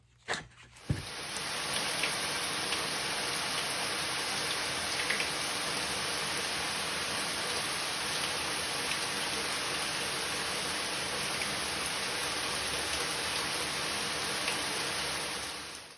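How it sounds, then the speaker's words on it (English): Water sprays steadily from a shower onto potted plants in a soft, even hiss, continuous and unbroken after a brief knock at the start. "you just put it in the shower and give them a bath"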